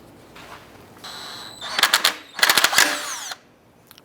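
A power tool drives a bolt into the radiator side mount bracket on a 2004-2012 Chevy Colorado. It runs in a few short, loud whirring bursts with brief pauses between them, close up and with no talk.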